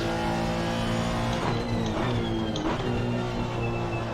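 A Honda NSX GT race car engine in Assetto Corsa Competizione drones at high revs with slight pitch shifts through gear changes, heard continuously and fairly loud across a short stretch with no talk.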